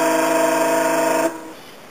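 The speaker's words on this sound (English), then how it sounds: "It also has a fog horn" A short, loud, steady fog horn blast from a scale model towboat sounds alone and then cuts off abruptly.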